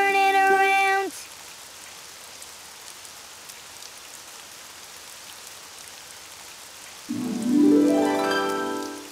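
Steady rain falls outside in a cartoon scene, a soft continuous patter heard between brief bursts of musical tones at the start and end.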